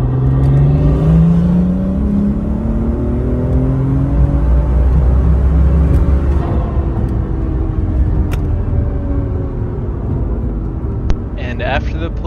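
BMW with a turbocharged B58 engine making a full-throttle pull, loud steady engine drone with rising harmonic tones through the gears, heard from inside the car with talk over it.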